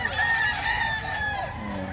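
Roosters at a pet market in Bocaue, Bulacan give a long drawn-out crow over a noisy crowd, with other birds clucking faintly and a voice briefly audible.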